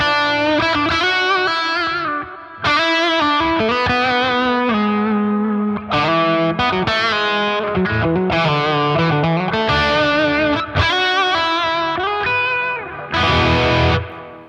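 Distorted electric guitar, a Mayones, with a crunchy, driven tone from the amp's crunch channel plays chords and riffs, loud and alone, with brief pauses between phrases.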